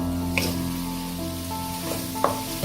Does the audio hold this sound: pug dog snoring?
no